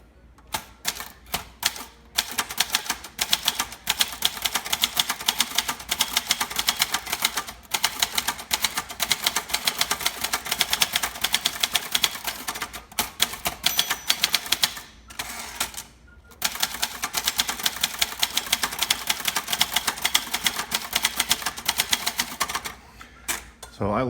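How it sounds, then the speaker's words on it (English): Rapid typing on a 1963 Brother JP1 Signature 300 manual typewriter with elite typeface: dense, snappy keystrokes in long runs broken by short pauses and carriage returns, close and clear with no talking. "So I love the typing feel on Brother JP1's."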